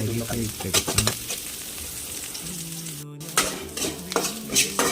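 Onions frying in coconut oil in a home kitchen, a steady sizzle with repeated scraping stirs and clinks of a utensil against the pan, loud and close, with no talk.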